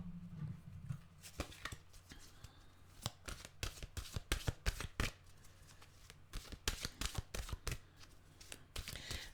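A deck of mantra cards being shuffled by hand, giving a series of quick riffling flutters and soft slaps in irregular bursts, close and fairly quiet.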